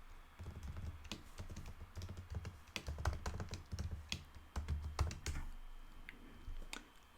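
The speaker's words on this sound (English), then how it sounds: "We're going to type sudo systemctl status sshd." Typing a Linux terminal command on a computer keyboard, with steady bursts of close, crisp key clicks for about seven seconds and brief pauses between bursts.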